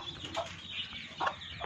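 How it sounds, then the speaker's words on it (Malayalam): Native country hens with chicks cluck softly in a short, faint burst of a few scattered calls. "എനിക്കിപ്പോൾ ഇവിടെ ഉള്ളത് 2 കോഴികളും 15 കുട്ടികളും ഉള്ളത്."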